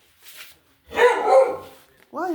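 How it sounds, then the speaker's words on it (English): A pet dog indoors gives a couple of short, close barks after a few soft sounds, with a brief vocal yip at the end. "Why are you barking?"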